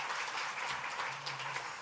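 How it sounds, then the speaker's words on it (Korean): Applause from a church congregation greeting visiting guests, including missionaries, during a Sunday worship service; steady, dense clapping that fills the whole moment without voices. "뜨거운 박수로 한번 환영합니다"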